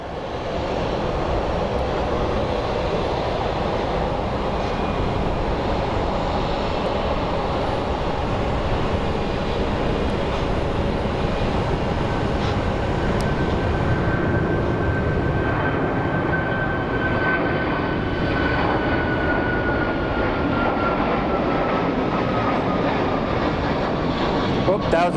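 Southwest Airlines jet departing for Honolulu from Sky Harbor Airport, a loud sustained engine roar with a faint rising whine, heard continuously from a distance throughout.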